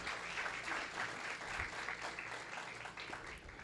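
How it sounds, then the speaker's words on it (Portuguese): A church congregation applauding, a fairly faint, sustained patter of many hands clapping with a steady, slightly pulsing texture and no clear speech over it. "Aplauda ao Senhor mais uma vez por isso."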